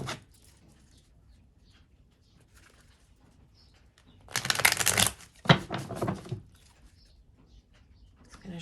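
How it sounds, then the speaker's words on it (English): A deck of tarot cards being shuffled in two short riffling bursts, close and crisp, with near silence before, between and after them. "Shuffle one more time and then we'll lay out the cards."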